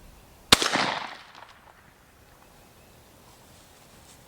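A Mossberg SA-410 semi-automatic .410 shotgun fires a single sharp, loud shot with a short decaying echo, followed by quiet outdoor ambience.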